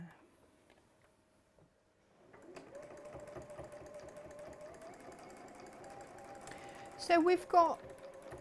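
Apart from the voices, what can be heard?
sewing machine stitching a quilt block seam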